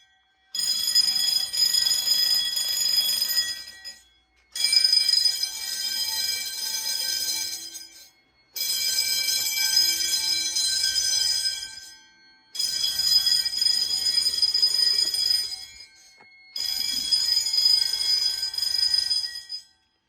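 Fire alarm bells sounding a code 3 pattern ring loudly in repeated bursts of about three to four seconds each, separated by short silent gaps, five rounds in all.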